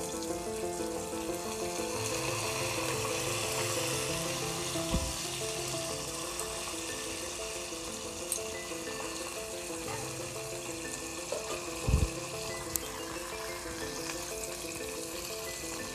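Vegetarian fish curry gravy simmering in a pot, with curry leaves and tamarind water added: a steady, soft bubbling sizzle running throughout, with a few clinks and bumps over the top.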